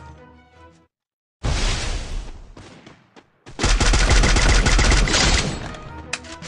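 Loud, close bursts of automatic gunfire in the battle royale game Free Fire, a short opening volley followed by a long, dense rattling stream of shots.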